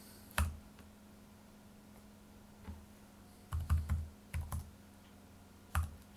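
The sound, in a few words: typing numbers on a computer keyboard into Excel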